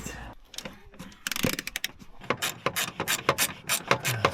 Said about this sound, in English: Flex ratchet coming in clutch